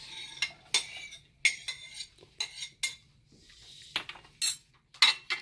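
Sliced onions and peppers go into a pan for a vegan cheese steak, heard as a series of sharp metallic clinks and scrapes of a utensil against the pan, spaced irregularly over several seconds, fairly quiet and close with no talking.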